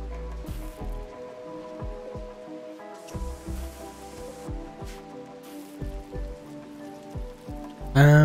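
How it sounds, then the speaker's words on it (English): Steady rain falls on the ground in the video game RimWorld, a soft constant patter beneath a quiet musical background. "it's always raining, except when there's fire."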